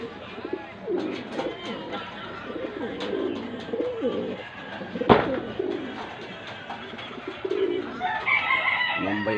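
Racing pigeons coo softly in repeated low murmurs, mixed with scattered rustles and one sharp knock, fairly close.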